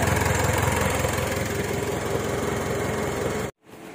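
A Mitsubishi Montero engine idles steadily up close, a continuous low rumble with a faint hiss, then cuts off abruptly near the end, leaving near silence.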